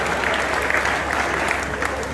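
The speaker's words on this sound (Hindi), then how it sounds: "एक बार इनके लिए जोरदार तालियां हो जाती हैं।" Loud, dense applause from a large audience cheering a poet at a Hindi comedy and satire poetry gathering, steady and continuous throughout without a break.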